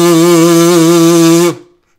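A steady buzzing hum with a reedy, raspy edge, made by humming through paper on a comb harmonica, holds one pitch for about a second and a half, then cuts off abruptly into silence.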